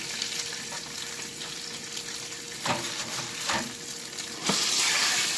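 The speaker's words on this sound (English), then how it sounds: "I'm frying it and then I'm going to smother it down in some gravy" Steady frying sizzle of cube steak in a pan, a continuous hiss with a few brief clatters and a louder burst of sizzling near the end.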